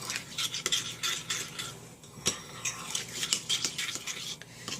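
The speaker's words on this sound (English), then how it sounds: "I'm going to add the 1/4 cup of water and give it a good mix" Quick scraping and clinking of a utensil stirring keto grits with water in a bowl, repeated in short irregular strokes, close by and fairly steady.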